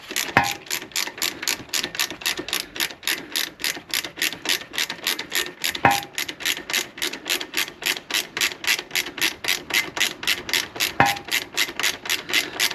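Bolt on the main stand of a Honda CBR 1000F motorcycle being unscrewed with a ratchet, a steady rapid clicking of the pawl repeating throughout, fairly close, with a few louder knocks at intervals and no talk.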